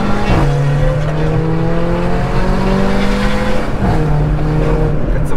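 Revving Volkswagen Golf engine outdoors, a loud sustained drone with a sharp pitch shift near the start and another gear-like shift toward the end, dominating the scene.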